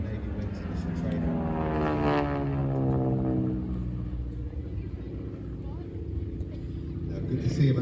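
A propeller aircraft from the Navy Wings collection flies a display at the Scottish International Ayr Show 2024, its engine drone rising and sweeping down in pitch as it passes, under a commentator's steady talk.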